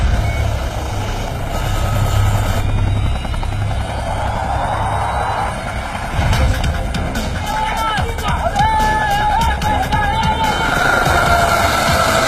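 A helicopter in flight, a loud droning rotor thrum with engine noise over mixed background sounds, while people speak over it.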